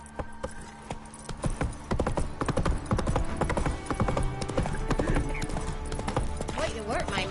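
Horse hooves clip-clop in a rhythmic trot for the horse in the video game The Witcher 3: Wild Hunt, close and steady, mixed with game sounds and a voice speaking over it.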